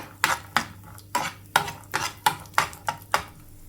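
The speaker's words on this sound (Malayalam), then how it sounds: "അണ്ടിപ്പരിപ്പ് മൂത്ത് വരുമ്പോൾ കുറച്ച് കിസ്മിസ് ഇട്ട് കൊടുക്കുക" Cashews and raisins are stirred in a frying pan, a spoon scraping and clinking against the metal in quick regular strokes, about ten close, distinct hits over a low background.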